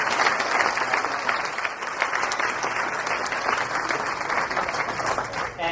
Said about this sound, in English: I'd like to ask for a round of applause for our sponsors.